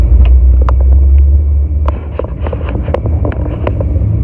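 A car pulls away on a cold morning, recorded from inside, with a loud, steady low engine and road rumble and scattered small clicks and rattles over it.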